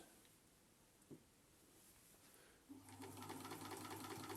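A vintage Singer sewing machine sits faint and quiet at first with a small click, then starts stitching with a smooth, steady whirring hum and rapid light clatter close by.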